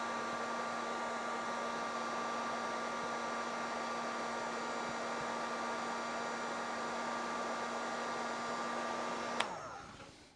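A TDAGRO 1800W heat gun runs on low speed, melting heat shrink up close: a steady, loud fan-and-heater whoosh with a constant hum that carries on for about nine seconds and then stops abruptly.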